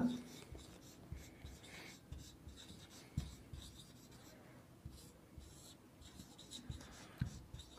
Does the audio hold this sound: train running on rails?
no